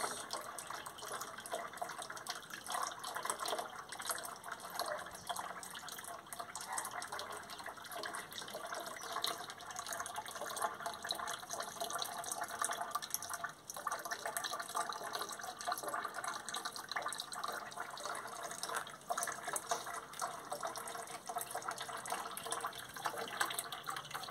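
Water is poured to water a flowering guapé plant, a soft, steady trickling splash that runs the whole time at low volume, with no talk.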